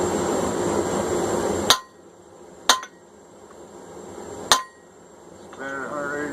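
Three loud, sharp hammer blows ring out on hot steel while a straight peen hammer is forged by hand, each strike spaced about a second apart and followed by a quieter lull.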